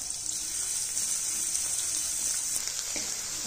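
Finely chopped onions frying in a pan for a spicy dal with brinjal, a steady close hiss and sizzle running unbroken throughout with faint crackles.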